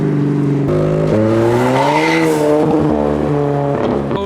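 Modified car leaving a car meet, its engine loud and close as it accelerates past with rising revs and a gear shift, tyres squealing briefly, no talk over it.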